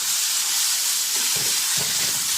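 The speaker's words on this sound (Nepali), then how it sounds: "चलाउनु र भुट्नु।" Steady sizzling of garlic, ginger and chili paste frying in a hot pan with bitter gourd and potato, a continuous hiss with a few soft stirring scrapes near the end.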